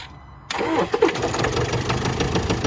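A Land Rover Discovery Sport HSE Lux with a newly fitted turbo cranks briefly and fires up about half a second in, then settles into a loud, close, rumbling idle.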